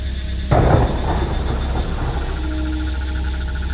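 A sudden loud rumbling crack of thunder breaks over steady rain, then fades into a continuous hiss of rainfall.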